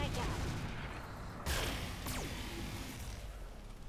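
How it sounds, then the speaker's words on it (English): Mech weapons firing in the RogueTech mod of the BattleTech game: a dense burst of impacts and a sharp whoosh cut through steady background noise, with a second streaking swish following, under faint talk. "Fire everything."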